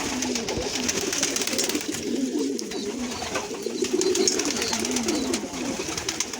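Pet pigeons in a breeding loft coo in soft, rolling low calls, several birds overlapping continuously and close by with a faint background hiss.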